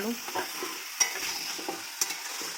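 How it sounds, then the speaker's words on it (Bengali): Potatoes and chicken sautéed together in a pan for a Bengali-style curry, a soft sizzle under repeated scraping strokes and a couple of sharp clinks of the spoon against the pan. "আলু আর মাংস একসঙ্গে কষিয়ে নিই"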